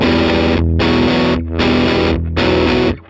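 Electric guitar played through a Flower Pedals Geranium germanium drive pedal at a mild setting: loud, thick overdriven chords ring out in three sustained strums with short gaps between them, and no voice.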